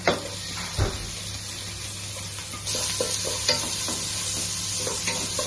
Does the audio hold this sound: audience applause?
no